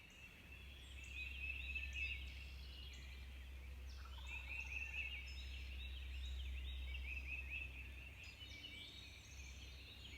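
Wild turkeys gobble in the distance on Kentucky property at daybreak, repeated faint calls carrying across open ground over a steady low rumble, with no talking.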